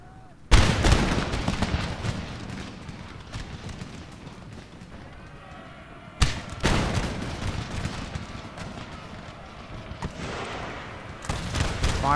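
Cannon artillery fire in the video game Empire: Total War erupts in three heavy booms spaced several seconds apart, each followed by a long rumbling tail and scattered musket crackle, with a voice speaking between the volleys.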